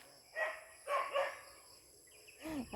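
Dogs in a farm clearing area bark in several short bursts, a couple of loud yaps close together, then a pause, then a final yelping bark, with no talk over them.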